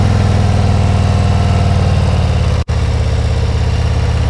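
A motorcycle engine lugs along at low RPM during slow-speed riding practice, a loud, steady low throb with one brief dropout partway through, heard close and alone without voices.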